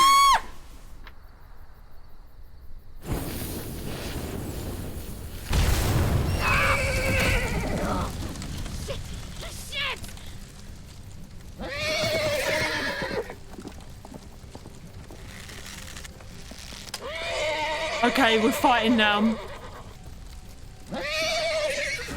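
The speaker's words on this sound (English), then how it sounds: "The horse is wilding." Horse in The Walking Dead video game neighing and whinnying in several loud, shrill bursts over game background noise, with a brief spoken remark near the start.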